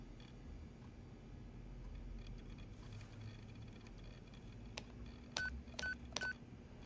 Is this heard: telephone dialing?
yes